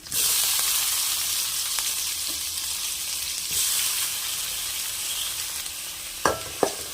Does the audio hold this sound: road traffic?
no